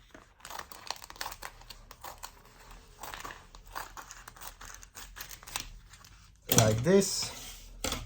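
Scissors cutting a length of plastic vacuum sealer bag from a roll, a crisp crinkling snip near the end, preceded by soft rustling and handling under a person talking.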